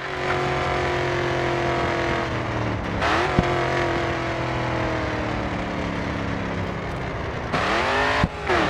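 Race car engine in Grid 2 holding a loud steady drone, with two sharp dips and recoveries as the throttle lifts and comes back on, plus a brief thump near the end.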